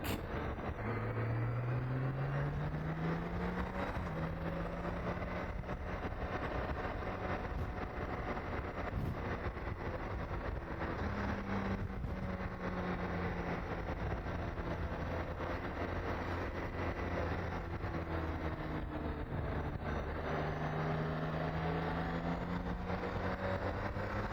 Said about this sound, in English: This bike just goes, and I mean goes.